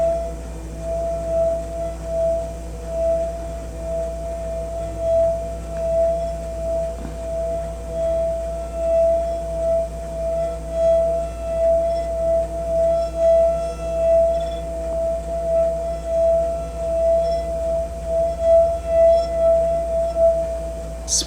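A wet finger circles the rim of a water-filled glass, drawing out a steady, pure singing tone that pulses gently in loudness over about twenty seconds, alone and close.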